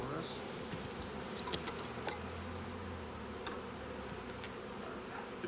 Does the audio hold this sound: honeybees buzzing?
yes